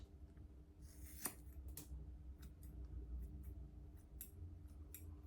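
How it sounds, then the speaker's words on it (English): Straight scissors cut hair at home in a series of quiet, crisp snips spaced irregularly, close to the ear over a faint low background hum. "So I'm going to use these straight scissors."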